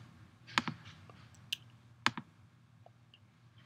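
A computer mouse clicks while creating a Google spreadsheet, two quick pairs of close, crisp clicks with a few faint ticks in a quiet room.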